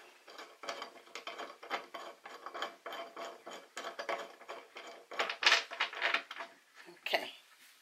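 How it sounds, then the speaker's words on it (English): A metal C-clamp screwed down tight onto a tabletop gives a run of close, clicking, grinding turns in uneven bursts, with a sharper scrape near the end. "it's screwed in, and it's clamping the tabletop"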